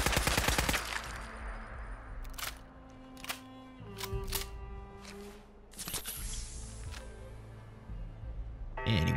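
In Fallout 4, gunfire cracks at a flying ant swarm. Sharp shots land in irregular bursts and single blasts, loud and close, with ringing tails and quieter game ambience between them.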